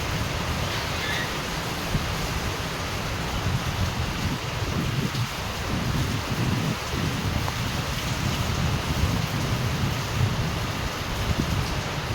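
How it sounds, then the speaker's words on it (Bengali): Rain falls steadily in front of a house beside a waterlogged field, a constant close hiss of drops on surfaces with no voices over it. "বৃষ্টি পড়ছে"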